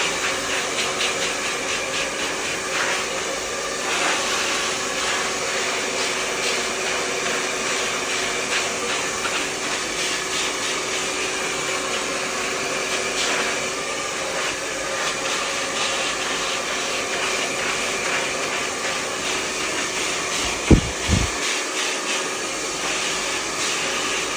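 A handheld hair dryer blows steadily on a short hair patch while it is brushed and styled, a continuous close whooshing roar that holds for the whole stretch, with a couple of brief knocks near the end.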